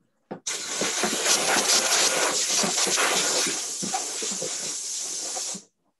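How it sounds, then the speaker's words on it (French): A steam cleaner blasts a continuous loud hiss of steam onto a pet food bowl after a short opening puff, the strong jet holding steady for about five seconds and then cutting off abruptly, with no talking. "Avec un coup de vapeur, c'est nickel."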